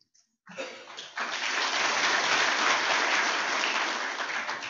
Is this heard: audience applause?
yes